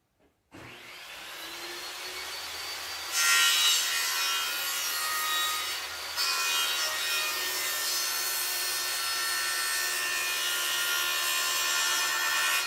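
A power saw spins up and rips lengthwise down a wooden board, a steady loud whining cut that deepens partway through and keeps going for about twelve seconds with no talk.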